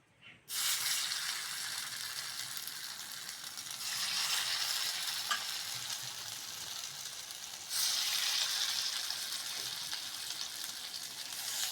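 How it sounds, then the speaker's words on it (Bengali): Loud, continuous sizzling of urad dal fritters frying in hot oil, starting abruptly and swelling in waves as they are stirred, with no voices. "এবার মাছ ভাজার তেলে বোড়াগুলো ভেজে নাও"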